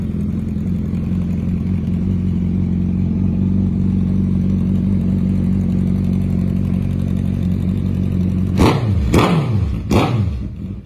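A 2019 Suzuki Hayabusa motorcycle engine starts and idles with a deep, steady rumble, then revs sharply three times near the end, each rev rising and falling quickly.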